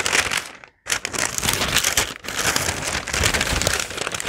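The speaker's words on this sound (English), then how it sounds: "Lots of crinkling." Yarn packaging is handled and squeezed up close, giving dense, continuous crinkling and rustling with a brief pause near the start and another short break midway.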